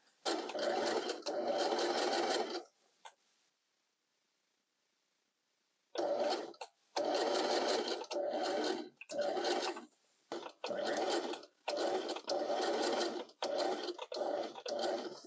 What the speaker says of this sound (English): we're just going to get sewing. The problem now is like fitting all of this through the machine